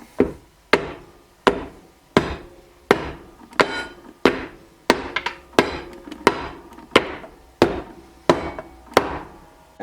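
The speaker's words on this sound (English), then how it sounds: "Now that that's in there, we can give a few little taps." Light hammer taps seating a part in a Ford C6 automatic transmission during a rebuild, a steady series of about a dozen sharp, evenly spaced knocks, close and clear with nothing else heard.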